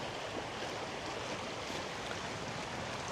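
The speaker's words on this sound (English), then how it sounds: "the Rouge River sounds really nice over here" The Rouge River flows through a historic village, a steady broadband rush of moving water that fills the scene evenly and continuously with no voices.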